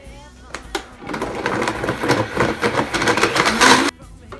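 A blender whirs loudly and coarsely for a few seconds, grinding thick pitted dates, then cuts off abruptly.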